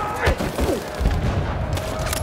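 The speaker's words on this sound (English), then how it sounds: "Thanos, you can't shoot your gun." Gunfire in the video game Detroit: Become Human, a dense burst of shots and booms layered under game sounds and steady background chatter.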